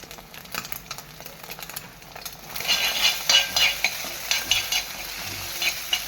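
Egg thoran with chicken powder, thazhuthama leaves and coconut is stirred and scrambled in a hot pan: quiet scraping at first, then a loud crackling sizzle with rhythmic spatula scrapes and occasional clinks.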